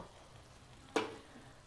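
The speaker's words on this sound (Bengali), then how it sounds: "এবারে আমি চিংড়ি মাছগুলো অ্যাড করে দেব" Shrimp dropped into a pan of bottle gourd with water, giving a single brief burst of sizzle after a second of quiet low background.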